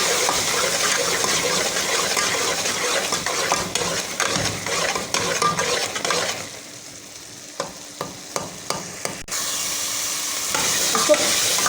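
Bottle gourd halwa with milk powder stirs and roasts in a pan, a continuous sizzling fry with scraping spoon strokes, then quieter sparse taps of the spoon against the pan before the sizzle swells again, close and with no talking.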